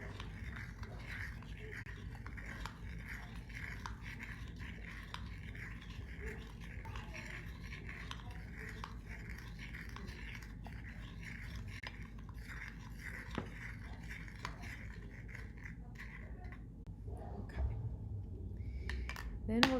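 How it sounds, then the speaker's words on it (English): A spoon stirs a penny-cleaning mixture in a container until it dissolves, making a steady, quiet rhythmic scraping that goes on throughout, close up and with no talk. "And then I'm going to stir my mixture."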